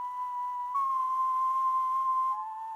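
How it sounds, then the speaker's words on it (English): A synthesized whistle tone holds a steady pure pitch, stepping slightly up, then dipping down near the end, clean and close with no voices. "This is just a whistle from some, you know, contact patch."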